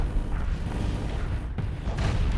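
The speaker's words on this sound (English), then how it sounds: "The ballistas are already firing, but there's only the 2 heavy ballistas" Heavy ballista guns firing in the space combat game Starsector, a dull booming rumble of repeated low thuds with one sharper crack midway, layered over continuous battle noise.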